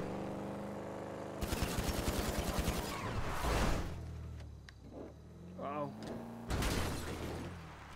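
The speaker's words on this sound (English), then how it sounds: "Oh, he's still shooting at me." Video-game gunfire: a rapid burst of automatic shots followed by scattered single shots and mechanical noises, with talking mixed in among the firing.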